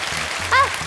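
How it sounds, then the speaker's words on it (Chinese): A studio audience on a Chinese TV show breaks into a brief round of applause, a moderate wash of clapping that runs beneath a person speaking. "给点掌声鼓励一下。"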